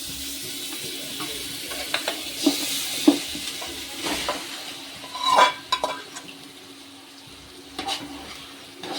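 Marinated chicken sizzles in a pan for spicy chicken biryani, with a soft steady fry under scattered scraping and clinking stirs, close and fairly quiet, no voices.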